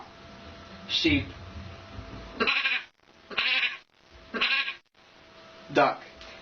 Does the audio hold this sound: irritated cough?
no